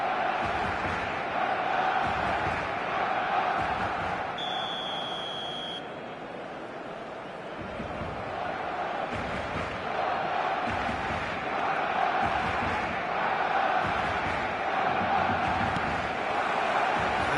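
A stadium crowd roars on match day in the football video game eFootball, a dense, continuous wash of massed voices that holds steady throughout and dips briefly partway through.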